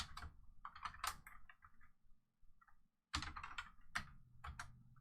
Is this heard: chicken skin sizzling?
no